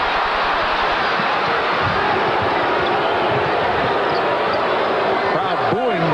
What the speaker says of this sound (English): Crowd booing the shot selection of Xavier McDaniel